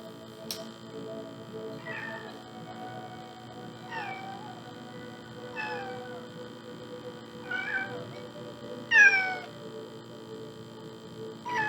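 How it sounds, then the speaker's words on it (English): A cat meows five times in a row, each meow short and rising, spaced a couple of seconds apart over a steady low electrical hum, with the last cry the loudest. "My cat."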